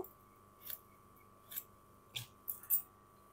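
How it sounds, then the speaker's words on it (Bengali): Ridge gourd being cut in a home kitchen, with five crisp, separate snipping cuts spaced unevenly over about three seconds against a quiet background with a faint steady tone. "এইভাবে আমি ঝিঙেটা কেটে নেব।"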